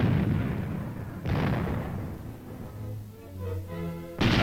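Tank main guns firing their tracer rounds, heard as two heavy booms about three seconds apart, each with a long rumbling decay, and a third blast starting at the end.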